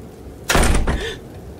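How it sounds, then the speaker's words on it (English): A door is slammed shut by the wind at a ski weekend lodge, giving one loud, close bang with a brief rattle before it dies away. "Justin, the wind closed the door"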